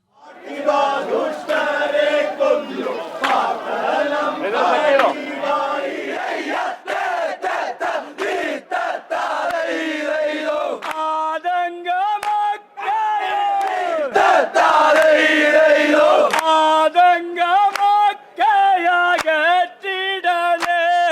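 A large group at Aranmula sings vanchipattu, the traditional Kerala boat song, loud and close in rhythmic call-and-response with strong sustained voices and crowd noise around them.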